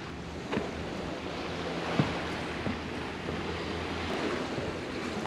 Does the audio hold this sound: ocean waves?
yes